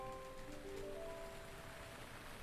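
Night rain in Zelda: Breath of the Wild pattering steadily as a quiet even hiss, joined briefly by faint sustained musical tones early on, with no speech.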